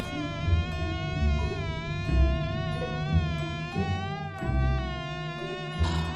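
Insects buzz inside a spaceship, a continuous high, wavering drone like flies or mosquitoes, fairly loud and close, with low rumbling thumps beneath it.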